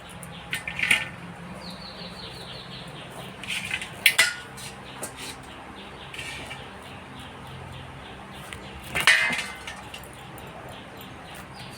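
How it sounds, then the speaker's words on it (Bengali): A knife cuts a bottle gourd (lau) in a home kitchen, making a few sparse, sharp chops and clinks against a quiet background with faint birdsong. "তাই লাউটা এখন মই কাটং"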